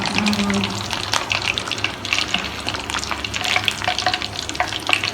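Fish fries in oil in a pan with a loud, dense sizzle and crackle, popping spatters rising throughout at close range, a faint voice barely present underneath.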